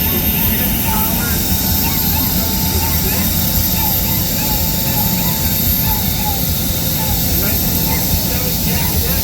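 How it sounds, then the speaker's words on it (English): A 1967 jet-engine-powered tractor built by Bruce McDaniel of Escondido runs at a tractor and vehicle parade, giving a steady, loud roaring hiss with a thin high whine, continuous throughout without pause. "1967 Jet engine powered tractor built by Bruce McDaniel at Escondido"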